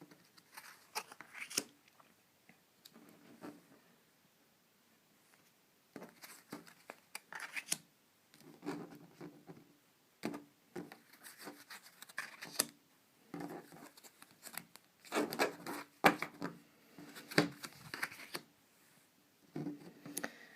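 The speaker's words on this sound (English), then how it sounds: "I'm going to draw 3 cards as I feel guided" Soft papery scrapes and slides come in short bursts separated by quiet gaps, close and faint, as three cards are drawn from a shuffled deck and handled.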